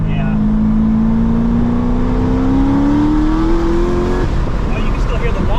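C6 ZR1 Corvette with a modified exhaust pulling hard in fourth gear, a loud engine roar with a rising supercharger whine climbing steadily before easing off, heard from inside the car.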